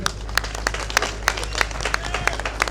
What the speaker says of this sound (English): Please give him a round of applause, yeah?